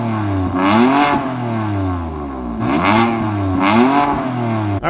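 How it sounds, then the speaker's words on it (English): A 2015 BMW M4's engine revs hard in three loud throttle blips, each rising in pitch and falling back to a steady idle between, close by with no talk. "I'm going to show you what the car sounds like revved at."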